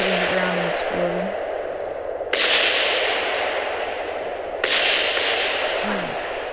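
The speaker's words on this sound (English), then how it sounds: "we should watch the wreckage hitting the ground and exploding" Rocket wreckage crashing to the ground and exploding in Kerbal Space Program: a steady roaring wash of noise, jumped up by two sudden louder bursts, with a voice speaking briefly at the start.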